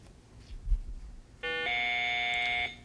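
A quiz bowl game buzzer at a high school match sounds as one sustained harsh electronic tone about a second long, following a brief bump of background noise.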